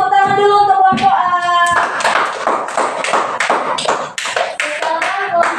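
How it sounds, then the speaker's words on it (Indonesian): A classroom group claps for a team, a brisk burst of hand claps under and after a sung or chanted tone, loud and close. "Beri tepuk tangan dulu untuk kelompok A."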